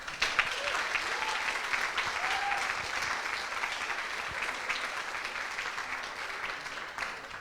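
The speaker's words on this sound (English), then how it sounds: "let's give them a huge round of applause" Sustained applause from a student demo day audience, dense clapping at an even level from start to finish, with no voices standing out.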